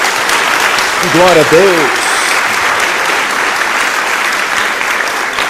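Congregation at a church service applauding steadily throughout, with a voice briefly speaking over the clapping near the start.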